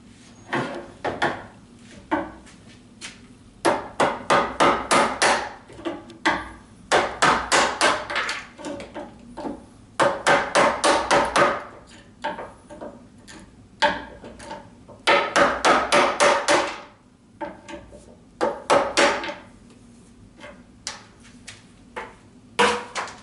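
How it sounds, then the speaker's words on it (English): Wooden spacers being hammered out of a board, loud sharp repeated blows in rapid bursts and clusters, with brief pauses between each run of strikes, close and alone. "I'm going to try and knock these spacers out"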